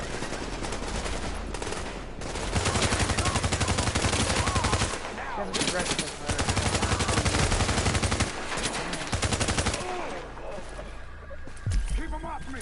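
Sustained automatic gunfire from The Division video game rattles in dense, loud bursts across nearly the whole stretch, with brief pauses between volleys and a final sharp shot near the end.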